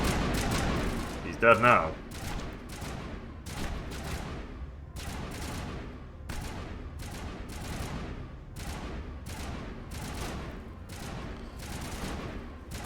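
Repeated gunfire bursts from the Mass Effect video game, evenly spaced shots sounding roughly every half second with a louder cluster near the start, while a player speaks briefly over them.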